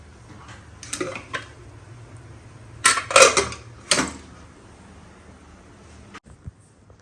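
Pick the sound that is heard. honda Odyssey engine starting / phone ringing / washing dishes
washing dishes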